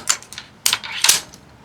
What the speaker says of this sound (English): When you cock the Zeus